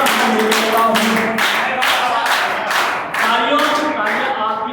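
An audience at a poetry recitation breaks into rhythmic clapping, loud and close, a run of repeated hand claps with a short lull midway, while a voice speaks over it.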